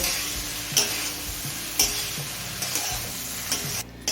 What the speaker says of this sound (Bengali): এবার মিডিয়াম ফ্লেমে সমস্ত সবজি সিদ্ধ হয়ে আসা পর্যন্ত ভেজে নেব